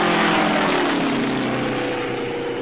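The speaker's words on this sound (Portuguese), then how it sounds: "Um avião de caça da Segunda Guerra Mundial." A World War II propeller fighter plane roars overhead, a loud, dense and steady engine drone that fills the whole clip without pause.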